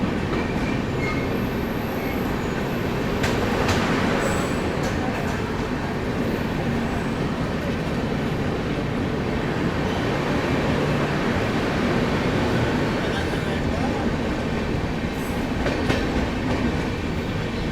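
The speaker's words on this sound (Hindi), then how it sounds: "अपनी ट्रेन यहाँ पर स्किप कर रही है रामपुर जंक्शन को" Steady, loud rumble of the New Delhi–Lucknow AC Superfast Express running at speed, heard from on board, with continuous wheel and track roar and faint clatter throughout.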